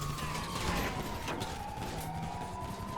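Police car siren in the video game GTA 5, a wailing tone that slides slowly downward under a dense wash of game noise and engine hum, fairly loud and continuous for the few seconds heard.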